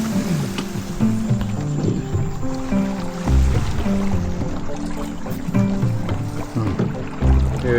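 A mokoro dugout canoe glides through water in the Okavango Delta, with steady soft swishing and lapping beside the hull, low thumps of the pole and a constant hum of background noise.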